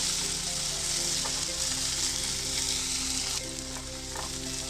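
Meatballs sizzling in a pan while browning for a kofta curry, a dense, continuous hiss of hot oil that drops slightly in level toward the end, with no talking.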